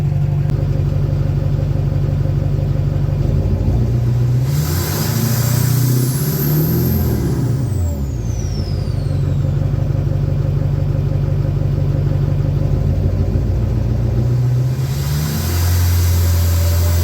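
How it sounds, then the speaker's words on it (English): A car engine idles with a steady low rumble, then revs up sharply and falls back to idle, with a second shorter rise near the end. It is loud and close, with no talk over it. "We'll put the camera here and do a rev real quick."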